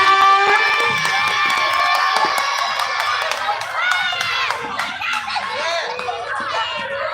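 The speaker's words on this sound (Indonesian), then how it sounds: "Tepuk tangan yang meriah." Lively school audience at a children's preaching contest: cheering and high excited shouts, scattered claps and whistles running continuously throughout, loud and close.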